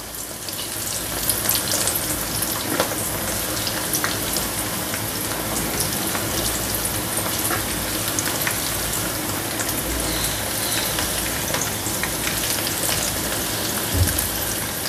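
Cauliflower florets frying in hot oil for crispy cauliflower, a dense steady crackling sizzle with bubbling pops that holds at an even level throughout, no voices.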